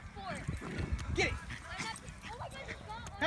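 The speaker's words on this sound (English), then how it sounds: "The soccer dog. Get it. Get it." A dog playing with a soccer ball outdoors gives several short, excited barks and yips, mixed with scuffling and thumps, while people talk and urge it on.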